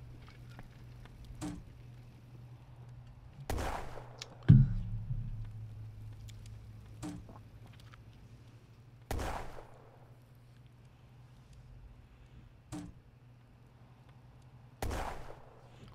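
Sharp, isolated bursts of gunfire from a wargame video game crack out at irregular intervals, about six loud reports over sixteen seconds against a quiet background hum.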